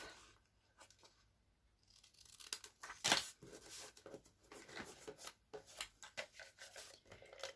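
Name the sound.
trimming card paper with scissors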